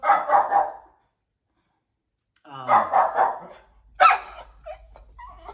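A small dog yips and barks in short, sharp bursts close by indoors, with pauses between outbursts and a person speaking briefly near the end.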